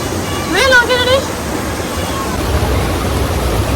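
Bhatta Falls waterfall in Uttarakhand gives a steady broadband rush of falling water, with a brief burst of voices near the start over the continuous roar.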